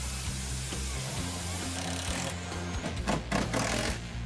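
A power tool drives screws to fix the frame of a Valley Panther pool table, a steady droning whir with a low hum that runs throughout, then a burst of rougher rattling toward the end.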